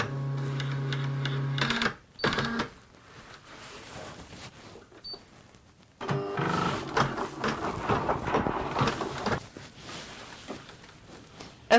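An embroidery machine stitches a design on a tote bag, sewing in bursts of rapid mechanical whirring and clattering separated by a quieter pause with faint clicks.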